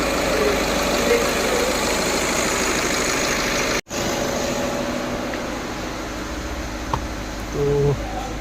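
A VW Vento engine idling after a faulty fuel injector was replaced to cure knocking, giving a steady, even mechanical hum with no knock and one brief dropout partway through.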